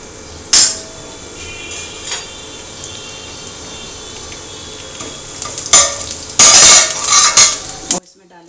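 Asafoetida and cumin seeds dropped into hot oil for methi (fenugreek) chutney, giving a close, loud burst of sizzling with spoon clinks and a steady background fry hiss, ending abruptly.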